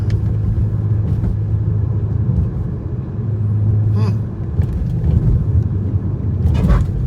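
A twin-turbo BMW 335i on coilover suspension rolling along with a steady low road rumble, thumping over a few bumps in sequence, no voices.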